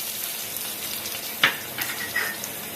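Curry leaves hit hot oil already holding mustard seeds, cumin and turmeric, giving a close, steady sizzle with a sharp crackling burst partway through and a few smaller spits after it.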